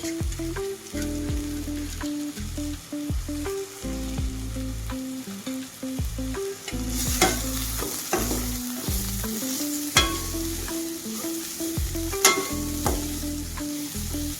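Roasted moth beans (matki) being stir-fried in a pan, with continuous scraping and stirring over a low sizzle and frequent sharp spoon clicks against the metal. Close and fairly loud, with no voices.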